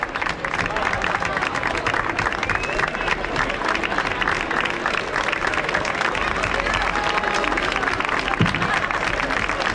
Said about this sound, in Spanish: Un fuerte aplauso y gracias por tu participación.